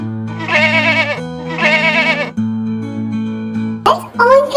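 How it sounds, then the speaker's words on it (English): A goat bleats twice in long wavering cries on a farm, then a shorter third call follows, loud and close, with a brief higher-pitched sound near the end. "the goat"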